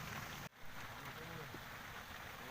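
Rain falls steadily at Cirata reservoir, a soft continuous hiss of drops on water and surfaces, briefly interrupted by a short dip near the start, with no clear voices.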